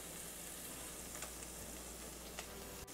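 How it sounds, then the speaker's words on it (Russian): Steady frying sizzle fills the clip, a dense hiss from cabbage in a hot frying pan with faint crackles and a brief clatter near the end. "И отправляю капусту на сковороду."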